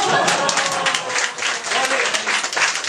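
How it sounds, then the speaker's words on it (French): Audience applause breaks out after a magic trick in which a scarf changes colour on both sides, a dense steady patter of clapping hands filling the room for the whole stretch. "En général, c'est là qu'on applaudit"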